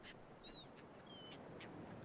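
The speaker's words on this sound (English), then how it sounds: "I think that's the first time I've actually heard seagulls in this." Seagulls calling in the World of Warcraft game world, a few short rising cries over a low, steady ambient wash, faint and somewhat distant.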